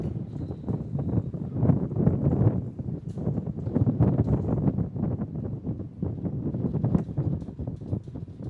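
Wind gusting steadily across an outdoor football field during a 7v7 game, a continuous broadband rumble and buffeting on the microphone that swells and eases throughout, with no voices heard.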